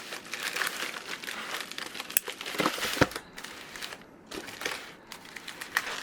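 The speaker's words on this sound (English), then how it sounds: "Okay, let's cut this box open." A cardboard box being cut open during an unboxing of a Flux Raider X pistol chassis: busy crackling, crinkling and scraping of cardboard and packing, with sharp snaps and small tearing bursts, close and continuous without speech.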